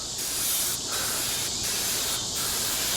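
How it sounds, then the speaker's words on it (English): Pam grilling cooking spray misted from an aerosol can onto barbecue grill grates, four loud hissing bursts in a steady rhythm, close by with no talk. "I'm testing out a new cooking spray"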